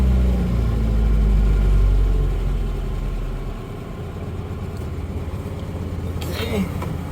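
A 1983 Mazda B2000 pickup's engine runs at idle, a low, steady rumble that is heavy at first and then settles into a lighter, even throb, with a brief clatter near the end.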